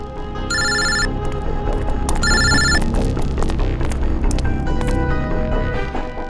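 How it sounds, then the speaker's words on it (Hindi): A telephone rings in two bright electronic bursts close by, followed by a steady hum and scattered clatter. "सर फोन उठाइए।"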